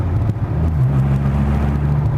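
A yellow 2006 Dodge Viper Coupe accelerates with a loud, deep engine rumble from inside the car, its pitch rising and then dipping briefly as it shifts gears.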